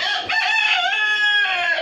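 A crossbred rooster, a white breed crossed with a local desi bird, crows once on a Bangladeshi chicken farm, a loud, close, drawn-out call lasting nearly two seconds with no one talking.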